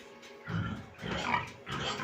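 Sows grunt in three short, rough bursts close by on a farm, with quiet gaps between them.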